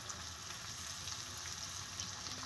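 Chopped onions frying in ghee on a lit stove, a steady, even sizzle that holds close and unbroken throughout with no talk.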